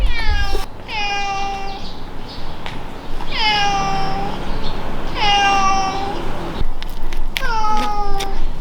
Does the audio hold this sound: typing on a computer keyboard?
no